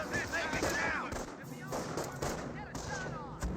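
Gunfire crackles in a Company of Heroes battle while a mortar half-track opens up, sharp repeated shots and bursts under continuous talking.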